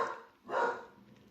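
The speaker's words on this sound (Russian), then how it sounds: "так что собака активно гавкает" A dog barks once at a moderate distance, a single sharp woof after a quieter opening sound, heard on a warm day with snow falling from the roof awnings.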